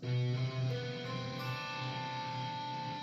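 A sustained distorted guitar chord with open strings rings out with clashing, buzzing overtones, strummed once then left to sustain and slowly fade, loud and alone.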